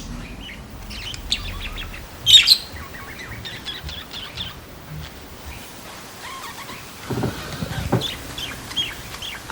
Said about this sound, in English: Pearl Jam was awakened this morning with the sound of nature, specifically birds